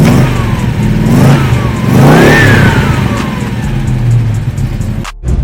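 A 1966 Chevelle with a 350 V8 engine, pro-touring build, rumbles loudly and revs up and down in swells, heard close and without talk before cutting off abruptly near the end.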